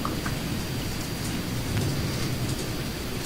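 Steady morning rain with a low thunderstorm rumble fills the background, broadband and continuous, with occasional faint drop ticks and no voices.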